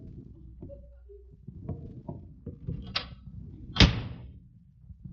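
A door closing as a sound effect in an old comedy radio show, a sharp thud near the end preceded by softer knocks and shuffling handling noises, fairly close and clear.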